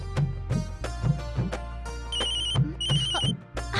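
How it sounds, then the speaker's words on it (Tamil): A phone ringtone for an incoming call plays as a bright repeating electronic melody of short tones, clear and moderately loud over a low steady hum, with no one talking. "அட, பிருத்திவிராஜ் தான் கால் பண்றாரு."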